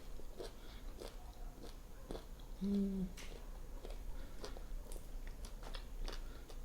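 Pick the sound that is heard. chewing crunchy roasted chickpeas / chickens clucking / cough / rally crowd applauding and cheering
chewing crunchy roasted chickpeas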